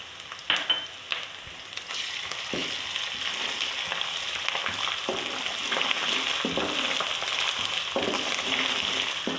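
Ginger frying in a hot pan with light-browned onions gives a steady, moderate sizzle, with a few sharper stirring clinks near the start and no talking.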